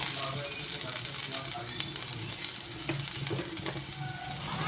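Crushed ginger goes into a sizzling pan for paneer curry, and a steady, continuous frying hiss with light crackles and occasional stirring scrapes carries on at an even level.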